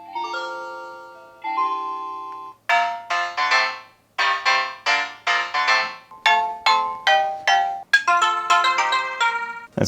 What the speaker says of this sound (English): you've also got yourself a whole bunch of calming sounds and ringtones